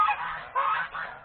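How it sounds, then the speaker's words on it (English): Geese honking nearby in rural Thailand, a few quick nasal calls in a rapid sequence, fairly close and clear. "Excuse the geese in the background."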